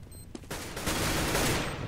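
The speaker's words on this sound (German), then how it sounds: "Tess sieht die Waffe, verschießt und Neo auch gestorben." Gunfire in Counter-Strike on the de_mill map during an ESEA Invite Division match, with a short spatter of shots followed by a dense, loud burst of rapid fire.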